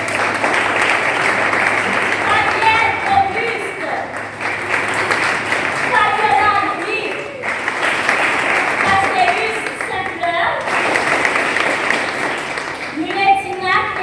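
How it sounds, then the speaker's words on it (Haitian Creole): An audience at a youth activists' summit applauds panelists, steady sustained clapping throughout while a voice announces names over it. "que je vous demande d'applaudir"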